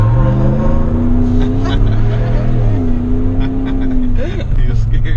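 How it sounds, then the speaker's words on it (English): Car launching into a burnout with spinning tires, a loud engine roar that climbs and shifts in pitch, with voices talking and reacting over it. "When I take off, I'm gonna spin the tires like."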